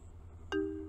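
A phone rings inside a Russian village simulator game, heard as a short ring tone that begins partway through and carries to the end over a low steady background hum.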